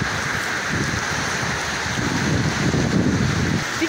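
Heavy downpour in Muğla, Turkey, a dense, continuous hiss of rain pounding surfaces, steady and close with no voices.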